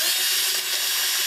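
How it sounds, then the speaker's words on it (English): A drill boring a small pilot hole into wood for a screw mounting a CNC standoff, a steady high-pitched whine held for about a second without break. "So I'm just drilling a little pilot hole just to give the wood screw something to bite into."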